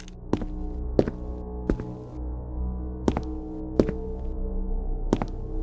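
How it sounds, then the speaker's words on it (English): Gunshots strike a book in a PS1-style horror video game, giving about eight sharp, hollow thunks at uneven intervals over a low, constant droning hum. "I'm gonna shoot the book."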